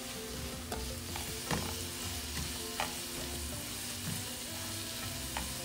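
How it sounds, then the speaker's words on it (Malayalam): Curry leaves, green chilli and turmeric powder sautéing in hot oil in a pan for Kerala fish molee, with a soft steady sizzle and occasional scrapes and taps of a stirring spoon, fairly quiet and close. "ഇത് നന്നായിട്ട് വഴറ്റിയെടുക്കണം."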